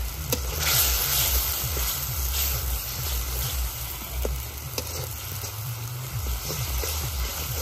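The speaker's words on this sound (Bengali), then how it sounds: "মাংসটা খুব ভালোভাবে কষে নিছি।" Chicken pieces frying in oil with chilli powder, turmeric, coriander and salt, a steady close sizzle with scraping stir sounds from the pan throughout.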